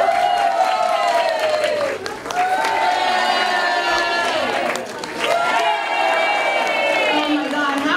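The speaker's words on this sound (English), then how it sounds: "We cheer for everyone and we hoot and holler for favorites." An audience at a senior variety show cheers, whoops and hollers: a loud, continuous wash of crowd noise with rising and falling hoots that briefly dips twice before surging again.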